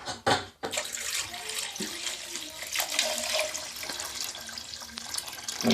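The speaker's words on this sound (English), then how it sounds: "So we'll pour this out and watch it pour." Dirty, sediment-laden water pours steadily out of a whole-house water filter housing, a continuous close splashing rush that runs for several seconds after a brief clunk at the start.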